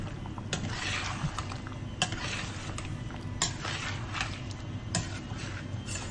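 A spoon stirring onion curry sauce for lamb vindaloo in a pan, with scraping strokes and sharp metallic clinks against the pan at irregular intervals over a low bubbling sizzle.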